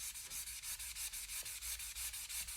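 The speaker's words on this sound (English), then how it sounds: "now I'm going to apply my sponge to the crayon" Sponge rubbing crayon marks off a gloss-painted wall, a quick rhythmic back-and-forth scrubbing with about a dozen even strokes, close and fairly faint.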